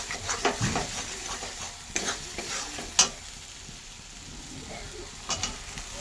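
Fried fish being stirred into a cooking masala in a pan, with a steady soft sizzle and a few sharp scraping clinks of a utensil against the pan, quiet and close with no talking.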